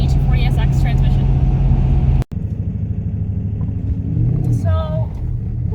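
Lexus LS400 fitted with a 240SX five-speed manual transmission and welded differential driving, its engine a steady low rumble throughout with a brief cut near the middle, while a person talks over it.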